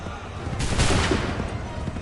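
A volley of muskets fires on command in the Assassin's Creed 3 video game, heard as one loud, dense crackling burst that swells and fades over about a second against a steady background.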